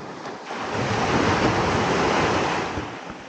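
Ocean waves rushing against a boat on a trip off Stewart Island, a steady loud wash of surf with wind buffeting the microphone and no talking.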